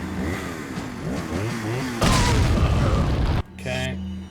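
A grenade explodes in Resident Evil 4 HD: a voice talks first, then a single heavy, close blast rumbles for over a second, followed by quieter game sounds.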